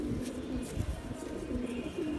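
Round-type fighter pigeons coo softly in a loft, low throaty calls repeating in a gentle rolling rhythm at close range, with no voices.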